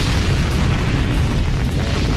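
A rocket engine burning chemical fuel, a loud, dense, unbroken roar with a deep rumbling low end and no voices.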